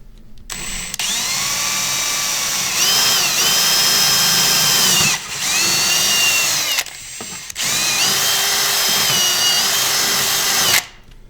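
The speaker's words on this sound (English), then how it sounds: "Gonna install this here to drill the hole." A power drill whines loudly in three long bursts while drilling a hole in a ski, its pitch rising and settling as it bites, with short pauses between runs.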